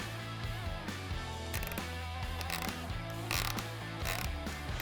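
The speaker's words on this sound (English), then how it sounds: "We're going to be using an 8mm wrench to remove the 2 factory bolts behind the factory grill." An 8mm wrench ratchets the factory grille bolts loose on a UTV, giving rapid close ratcheting clicks in bursts with short pauses, over a steady low mechanical hum.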